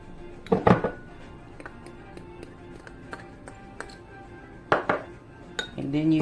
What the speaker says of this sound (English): add your chopped garlic to your butter and parsley mix